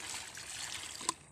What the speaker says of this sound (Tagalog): hugasan na natin ang malinis na tubig, Pops.